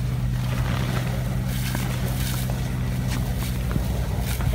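A boat approaches during an emergency response drill at a training centre, with a steady low motor drone and constant background noise at an even level throughout.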